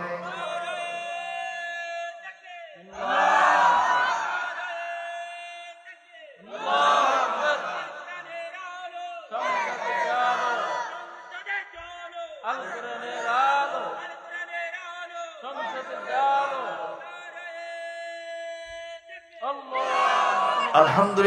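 A crowd at a Bangladeshi Islamic waz sermon in Bogura chants the takbir in loud, rhythmic bursts of massed voices, roughly every three seconds, each swell rising and fading with quieter gaps between.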